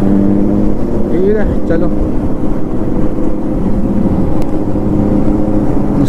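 A convoy of motorbikes rolls along a road on a group chai-and-pakoda ride in Kolhapur, a loud, continuous engine drone filling every moment while a rider briefly speaks over it.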